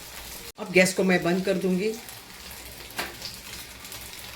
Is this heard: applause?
no